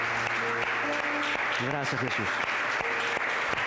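A church congregation applauds in praise during a Spanish-language worship service in Los Realejos, steady clapping filling the room while a preacher speaks over it with amplified voice.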